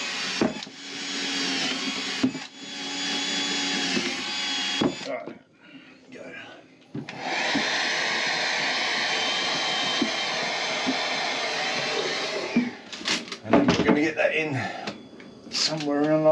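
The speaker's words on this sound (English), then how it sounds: "I'm going to put three holes through here so I can go pass through it and whack a screw through it and through the other side." A power drill bores screw holes through wood in a sailboat galley, in three loud, steady whining bursts separated by pauses, followed by some clattering handling noises near the end.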